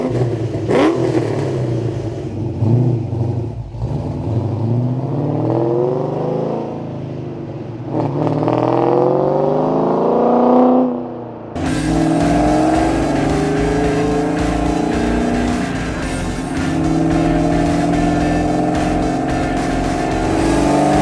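A 1995 Ford Mustang Cobra V8 with a performance build revs and pulls hard on the road, its engine note climbing through rising sweeps across several gear changes. Loud and close, it settles into a steady, rough drone as the car cruises.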